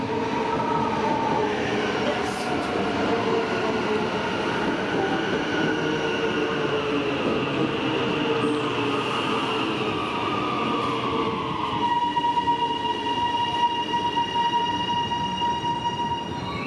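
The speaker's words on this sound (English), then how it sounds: "Here I am at Lynbrook Station, about to board a HCMT." An HCMT metro train hums and whirs steadily at Lynbrook Station platform, its motor tones rising and shifting, with brief squeals and clanks; loud and close, no talking.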